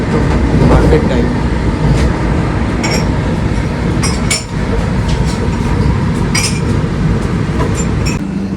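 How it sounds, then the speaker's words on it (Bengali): A Vande Bharat express train runs at speed, giving a loud continuous rumble with rhythmic clicks and metallic clinks from the wheels and carriage, heard from inside the coach. "ট্রেন ভালোই স্পিডে চলছে এখন।"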